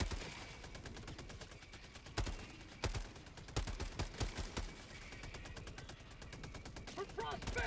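Rapid automatic gunfire from a deployed sentry turret in a shooter video game, bursts cracking over a constant background of in-game noise and other shots, with louder impacts partway through.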